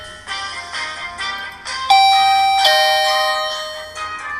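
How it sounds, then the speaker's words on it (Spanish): A doorbell rings inside the Roblox game Paradise Island Resort, a bright electronic chime sounding in several tones, with a clear sustained ding-dong near the middle that fades slowly. "en este momento nos están tocando el timbre y vamos a abrirle la puerta."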